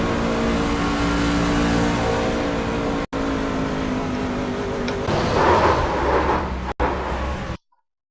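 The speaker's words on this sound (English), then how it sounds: "You can hear these drivers lifting as they do pull around this track." Race trucks at Kansas run loud and continuous engine drone around the oval, pitch and volume easing and surging as drivers lift off the throttle, with brief cuts in the sound.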